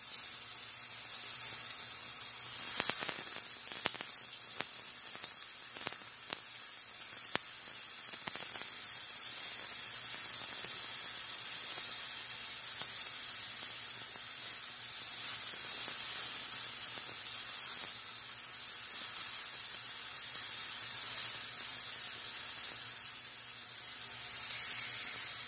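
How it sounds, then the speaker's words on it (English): Mushrooms, portobello strips, searing in a pan for fajitas, giving a steady broadband sizzle that holds close and even throughout, with a few brief louder crackles near the start. "I want them to get a nice sear on each side."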